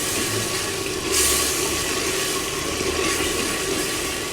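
Water added a little at a time to spice masala frying in a pan for a chicken and potato shorba, giving a steady close hiss and sizzle with a brief louder surge, no voices.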